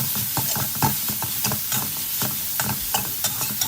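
Minced beef stir-fried dry with chili, a lively sizzle broken by quick, rhythmic scrapes and clacks of the spatula against the pan, close and loud, with no talking.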